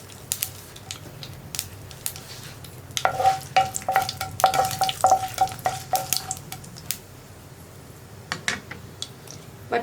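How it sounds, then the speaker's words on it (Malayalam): Mustard seeds pop in hot coconut oil in a pan for a potato and green peas curry. Sharp, scattered crackles grow denser midway over a low sizzle, close and fairly loud, with no talking. "ഇപ്പോൾ നമ്മുടെ കടുക് പൊട്ടിക്കൊണ്ടിരിക്കുന്നുണ്ട്."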